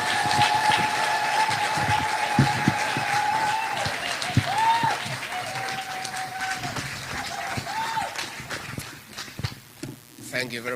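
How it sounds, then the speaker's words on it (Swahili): Crowd claps at a Kenyan political gathering with pastors present as the deputy president is welcomed, applause mixing with shuffling, cheers and a sustained tone, then thinning out and growing uneven toward the end. "Makofi"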